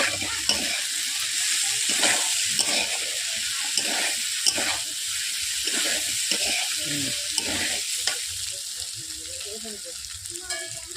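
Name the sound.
paneer being stirred and fried in a pan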